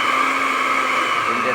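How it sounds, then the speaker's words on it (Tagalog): Blender whirring through mango butter, a steady loud motor drone held close without a break. "Blender tayo sa mango butter."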